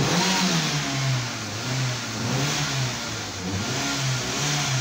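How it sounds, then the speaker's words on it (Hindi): A Hyundai i10 engine runs with a misfire from a faulty fuel pump motor, a steady mid-pitched running note with a sputtering, uneven pulse that rises and dips, close up and alone. "ये फट फट कर रही है, मिसिंग कर रही है ना।"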